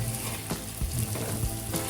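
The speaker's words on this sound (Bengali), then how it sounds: "একদম ভাজাটা সেই রকম হচ্ছে" Rice and lentils frying in oil for a vegetable khichuri, a steady close sizzle with intermittent scraping stirs throughout.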